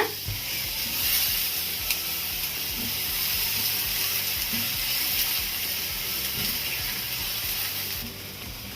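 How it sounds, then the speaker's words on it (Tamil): Finely chopped ridge gourd sautéing in a pan over a medium flame, giving a steady soft sizzle and hiss close by throughout with faint stirring scrapes and no talking. "பீர்க்கங்காய் பாத்தீங்கன்னா ஒரு 3 மினிட்ஸ் வதக்கினா போதும்"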